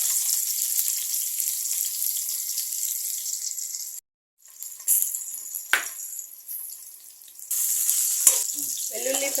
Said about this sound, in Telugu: జీరా ఫ్రై అయిన తర్వాత ఇందులోనే సన్నగా కట్ చేసుకున్న వెల్లుల్లి, పచ్చిమిర్చి వేసుకోవాలి